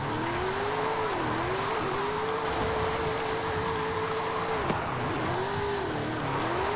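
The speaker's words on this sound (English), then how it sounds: "trying to keep it drifting the whole way." Toyota Tacoma TRD truck drifting, engine holding a steady high drone with brief dips as revs shift, tires scrubbing continuously under a broad noisy roar, close and loud.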